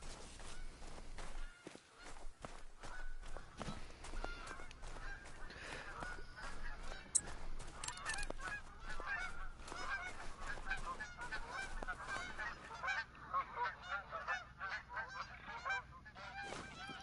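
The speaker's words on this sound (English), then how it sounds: "Bunch of snow geese." A flock of snow geese honking in theHunter: Call of the Wild, a busy overlapping chorus of calls that is steady and fairly close, with footsteps through terrain underneath and no talking.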